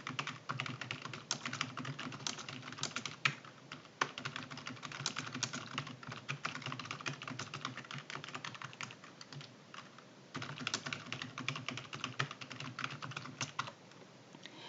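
Steady, continuous typing on a computer keyboard while entering spreadsheet data, with a dense run of close key clicks throughout and a brief pause partway through.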